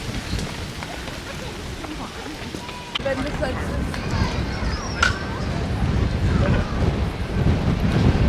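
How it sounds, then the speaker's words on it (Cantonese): Strong wind roars and buffets the microphone under the cherry trees of Battersea Park, London, in a steady low rumble that grows louder toward the end, with faint, muffled voices underneath. "今日天氣好好，但係咧好大風啊！"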